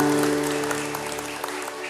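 Audience applause at a spoken talk, a dense steady patter of clapping lasting about two seconds, moderately loud, with a sustained low tonal hum beneath it.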